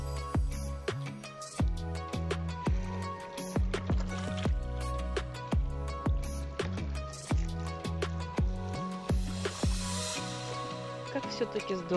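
Water splashes and gurgles into a container on a seashore, with repeated drips and sloshes, fairly close, rising and falling over several seconds.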